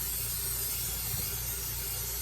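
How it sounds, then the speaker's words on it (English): Cooking spray hisses steadily into a pan as it coats the sides, a continuous close, moderately loud spray with no talking. "spray it really well all the way around"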